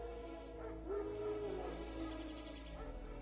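Wild dogs in The Witcher 3 video game, faint distant barks and yips over a low game ambience hum, brief and quiet.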